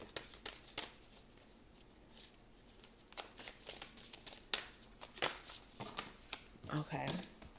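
Tarot cards are shuffled in quick riffling bursts and flicks, crisp and close, while someone talks over them.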